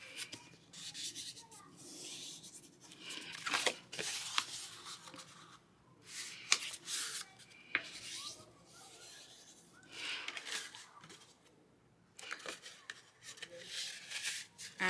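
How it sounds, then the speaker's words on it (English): A paper watercolor journal page is folded and creased by hand, with soft rustling and sharp crinkling bursts spread across a quiet background, close and faint. "I fold it like this, okay, and then I can fold it again on this way."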